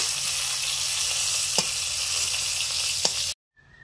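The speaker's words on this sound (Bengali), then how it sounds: "ফুলকপি ভাজা হয়ে গেছে, তুলে নিচ্ছি।" Cauliflower fries in oil with a loud, even sizzle broken by two sharp utensil ticks, then cuts off abruptly into near silence.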